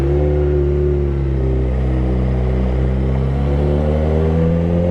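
A Suzuki GSXR 600 motorcycle engine runs steadily, close and loud, for the whole stretch, its deep harmonic drone holding near one pitch with slight swells and no clear revs or pops standing out.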